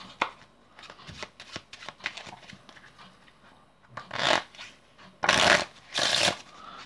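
A deck of playing cards being shuffled during a card-trick performance: several soft riffles early on, then three louder, brisk riffle bursts toward the end, close and alone with no talk.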